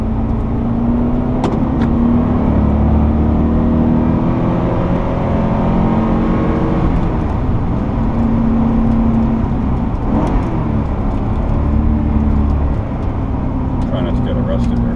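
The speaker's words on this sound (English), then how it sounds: "we can just enjoy the sounds of a 928, and let's go for a drive" A 1981 Porsche 928 with a five-speed manual drives along a twisty road. Its engine drones steadily and fairly loud throughout, with the pitch rising and falling as it accelerates and shifts. A voice talks over it at times.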